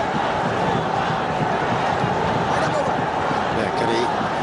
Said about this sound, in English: Capacity crowd here. in the Sher-e-Bangla National Stadium.